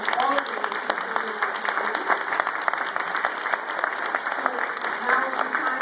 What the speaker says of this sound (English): I just want to give her another round of applause